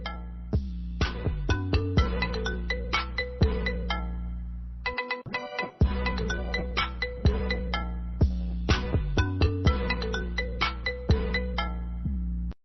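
A phone ringtone plays as a bright, repeating electronic melody of quick plucked notes, steady and loud for the whole stretch with a brief dip midway; no spoken voice stands out over it.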